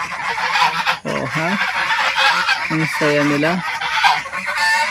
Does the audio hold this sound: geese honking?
yes